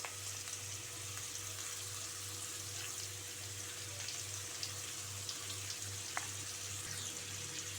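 Grated carrot fries in oil with chilli powder and turmeric, a continuous even sizzle with a low steady hum underneath and a few faint clicks, close and without voices.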